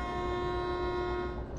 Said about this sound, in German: Hupe geht.